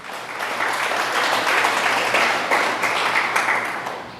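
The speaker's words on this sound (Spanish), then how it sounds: "Dese un aplauso a usted mismo." A church congregation claps together in a dense, steady burst of applause, filling the room for a few seconds before tapering off at the end.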